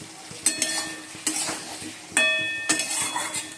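Potatoes are added and stirred into a frying fish curry: a utensil scrapes and clinks against the pan in a few sharp bursts over a soft, steady sizzle.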